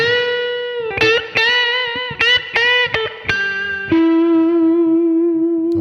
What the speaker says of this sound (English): you need to have some distortion on the sound